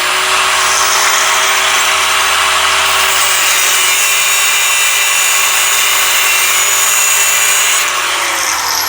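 A power tool cuts through a Corvair part in one loud, continuous grinding run lasting the whole stretch, its pitch shifting slightly near the end.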